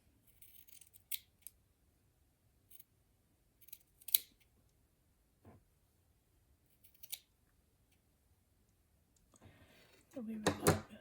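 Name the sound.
scissors trimming excess fabric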